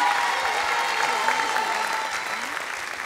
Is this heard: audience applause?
yes